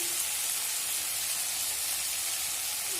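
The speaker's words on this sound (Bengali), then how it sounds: "এখন আমি ভালো মতন মশলাটাকে কষিয়ে নেবো" Spice paste masala for a cauliflower and potato curry frying in a pan, a steady close hissing sizzle that continues evenly throughout without talking.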